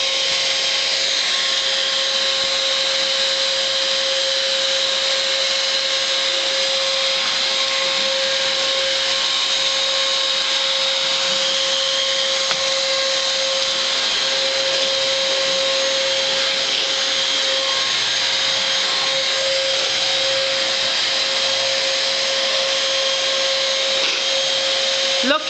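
Vacuum cleaner running nearby at a loud, constant drone with a steady whine, unbroken from start to finish.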